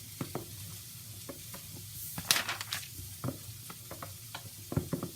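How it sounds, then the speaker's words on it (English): A spoon stirs rainbow noodles by hand, giving scattered soft clicks and scrapes against the bowl in an irregular rhythm, with a brief wetter burst of stirring partway through and no talk. "And I'm just stirring it with a spoon"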